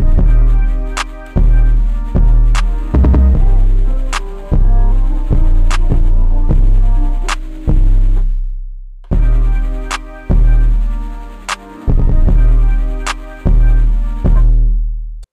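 Hi-hat pattern with a beat played from the Thenatan Hatz VST plugin, loud crisp repeating hat ticks over heavy kick and bass hits in a steady loop, with a brief drop in the middle before the groove returns.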